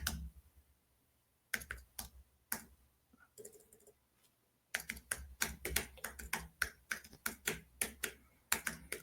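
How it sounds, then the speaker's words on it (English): Computer keyboard typing, close and clear, in several bursts of rapid key clicks separated by short pauses. "I'm just typing in something I should have typed in before we started"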